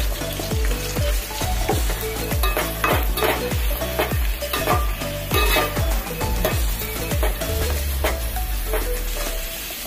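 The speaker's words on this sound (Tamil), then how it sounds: "அத முதல்ல எண்ணெயில போட்டு வதக்கிக்குவோம்" Five large cut onions sautéing in coconut oil, a loud continuous sizzle broken by rhythmic stirring knocks and scrapes against the pan, with no talking.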